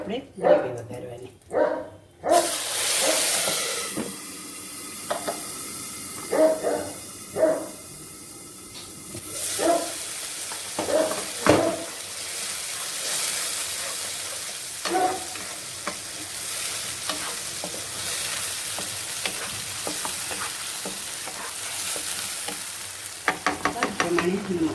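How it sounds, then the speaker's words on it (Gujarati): Whole mustard seeds, cumin, a bay leaf and a red chili pop and crackle in hot oil as gravy is tempered, with sharp spoon-and-pan clatters, a dog barking several times and someone talking over the cooking. "અને પછી આપણે ગ્રેવી વઘારવાની."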